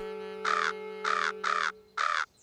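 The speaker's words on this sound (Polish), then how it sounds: "O, teraz to są już trzy wrony." Cartoon crows give four harsh, evenly spaced caws, close and loud, over a steady electronic hum in an animated children's show.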